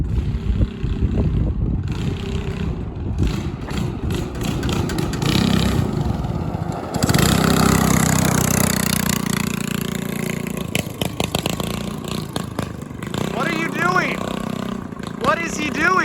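A go-kart fitted with a stage 1 performance kit accelerates sluggishly, its engine droning and building steadily for most of the stretch, loud and close, with voices talking over it near the end.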